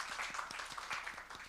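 Congregation at a Sunday church service clapping in blessing for a newcomer named Yu-hyun, a soft, steady patter of many hands heard from a distance, quiet and continuous without voices.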